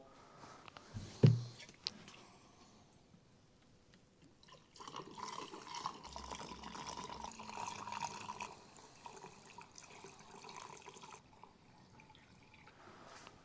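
Fuel pouring from a container into a BMW E46 filler neck without a proper funnel, a wet, uneven trickle and glug that swells midway and keeps running steadily, fairly close, after a brief knock near the start.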